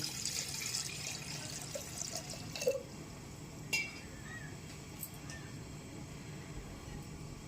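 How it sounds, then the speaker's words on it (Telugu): Water pours into a pan with a soft, steady splashing, punctuated by a couple of light metallic clinks. "ముందు కొన్ని నీళ్ళు వేసుకుందామండి"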